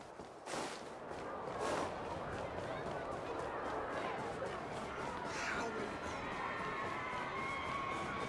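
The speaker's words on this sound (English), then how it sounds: "there's a crowd gathering over there" A crowd gathering in Honkai: Star Rail, soft murmuring babble and footsteps with light cheering swelling after the first second, distant and steady.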